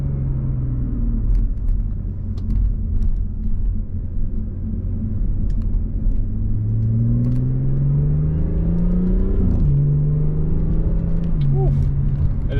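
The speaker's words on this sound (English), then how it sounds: "See that Sport Plus in first gear just revs so far." A BMW 340i F30 engine revs hard in first gear with Sport Plus mode, a steady loud in-cabin drone whose pitch sweeps upward through the rev range before dropping at the end, with faint stock burbles.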